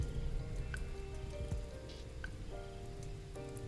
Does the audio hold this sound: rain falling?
yes